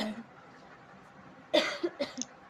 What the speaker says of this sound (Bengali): আমার কাশি ঠান্ডা জন্য কাশি হচ্ছে